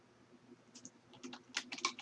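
Quiet typing on a computer keyboard during an online office-software webinar, with a steady run of soft clicks building into denser, slightly louder keystrokes near the end.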